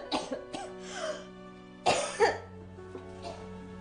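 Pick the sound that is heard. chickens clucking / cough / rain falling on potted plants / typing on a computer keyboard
cough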